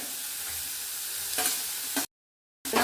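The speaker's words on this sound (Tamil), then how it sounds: "இஞ்சி, கருவேப்பிலை, வெங்காயம் லேசாக சிவக்கட்டும். இதோட கேரட்டையும் போட்டுடுறேன்." Ginger, curry leaves, onion and carrot fry in a pan with a steady sizzle and some stirring, then cut out to silence for about half a second before the frying sound returns.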